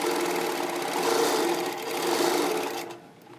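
Moxie quilting machine stitching on grid fabric, a fast steady mechanical whir of needle strokes, close and alone, easing off near the end.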